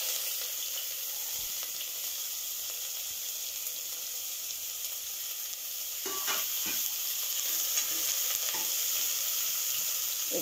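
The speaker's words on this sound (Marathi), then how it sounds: "कांदा लालसर होईपर्यंत आपल्याला परतायचा आहे" Chopped onion sizzles in hot oil over a low gas flame for chicken dhansak, a steady close frying hiss throughout, with spatula stirring scrapes and clatters joining in the later seconds.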